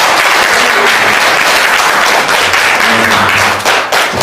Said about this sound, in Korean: 그래서 여러분이 저를 위해서도 박수 한번 크게.